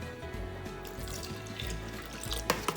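Warm milk pouring into an Instant Pot set to sauté, a brief steady liquid stream and splash heard quietly and close up, with no talk.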